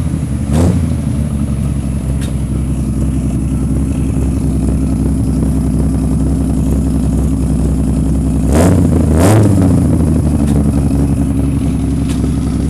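Engine of a Triumph TR6 sports car running near and loud, a steady rumbling idle with brief revs blipping the throttle early on and again toward the end.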